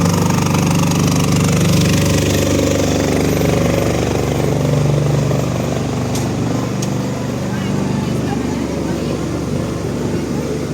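A powerful portable power generator runs on a hot day in central Lviv, producing a loud, steady engine drone that fills the whole stretch without letting up, close by, with street ambience underneath.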